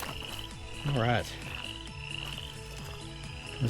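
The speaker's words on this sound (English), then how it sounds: "Listen to those frogs." Frogs croak repeatedly along a trail beside a railroad tunnel, a chorus of ratcheting calls pulsing steadily with one louder nearby croak, over a constant high insect-like whine; a voice briefly murmurs.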